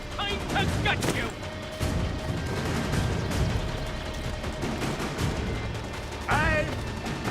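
Gunfire and combat clatter from the video game Assassin's Creed III, a dense, loud burst of shots and crashes over continuous battle noise, with sharp impacts early and near the end under shouted voices.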